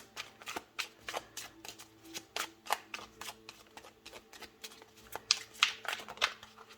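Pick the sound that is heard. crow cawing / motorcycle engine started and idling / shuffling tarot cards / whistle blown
shuffling tarot cards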